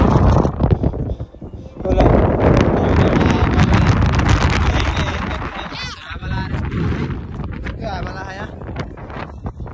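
Strong gusty wind on the Devchuli hilltop in Nepal buffets the microphone with heavy, uneven roaring that rises and falls, and voices are faintly heard beneath it.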